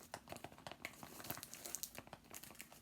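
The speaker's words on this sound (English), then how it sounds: "So let's take off the pretty ribbon." Hermès gift packaging being unwrapped, with the ribbon pulled off amid steady soft crinkling and rustling of paper and ribbon, close and fairly quiet, with no talking.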